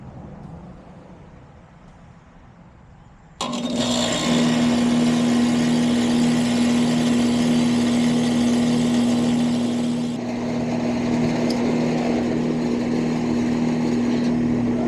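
An older Rheem air conditioner unit with a new capacitor starts abruptly after a quiet pause, then runs with a loud, steady motor hum and fan whoosh. There is no talking.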